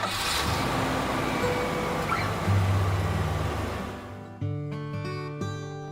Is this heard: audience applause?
no